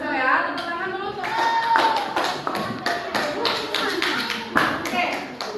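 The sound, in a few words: children clapping hands in a classroom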